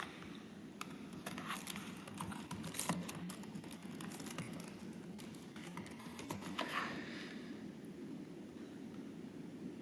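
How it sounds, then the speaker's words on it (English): Steady typing on a computer keyboard, a close, quiet patter of key clicks in uneven runs with a few louder taps, heard alone over low background hum. "I'll just type it in."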